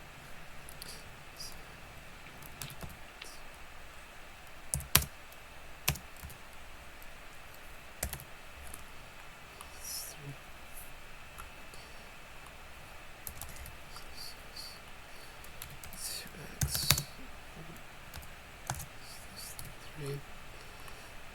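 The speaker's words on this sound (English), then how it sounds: "we'll type in a bracket here" Light typing on a computer keyboard, scattered soft key clicks and a few sharper taps under a faint background hiss, with no steady rhythm.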